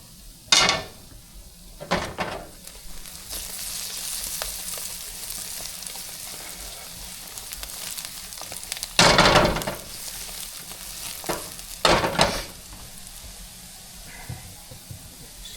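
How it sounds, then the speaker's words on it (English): Plantains browning in a frying pan give a steady close sizzle throughout, broken by a few sharp bursts of utensil scraping and clatter against the pan. "we're basically just browning the plantains here"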